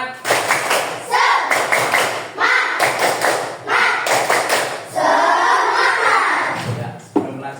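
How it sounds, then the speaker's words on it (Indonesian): A school class claps in a quick rhythmic pattern, loud and close, with short bursts separated by brief pauses and some voices mixed in. "Oke. Tepuk semangat."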